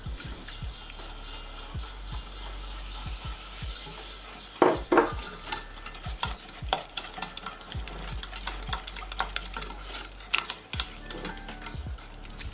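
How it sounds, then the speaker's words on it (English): A whisk stirs sugar and ingredients in a bowl, with a steady run of soft scraping and tapping clicks against the sides, close and fairly quiet, and a few sharper knocks mixed in. "I'm using a whisk."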